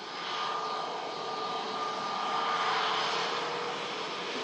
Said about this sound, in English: Next aircraft to arrive is a Ryanair 737 MAX 8200 coming in from Rome